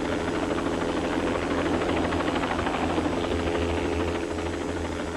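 A rescue helicopter approaches a landing zone in a front yard, its rotor and engine roaring steadily and loudly throughout with a constant thumping drone and no voices.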